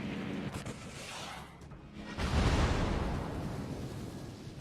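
HE bombs dropped by carrier aircraft burst in a deep, roaring explosion in World of Warships, swelling halfway through and rumbling on under engine drone and whooshing air.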